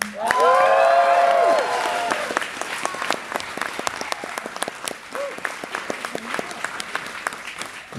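Crowd at a concert at Mac Birmingham clapping for a band, opening with cheers and whoops over full applause that gradually thins to scattered claps.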